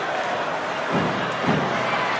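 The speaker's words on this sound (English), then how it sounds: "And listen to the crowd there." A large stadium crowd roars and cheers at a Racing 92 versus Toulon rugby match, a broad sustained wash of noise with a couple of swells, distant and steady.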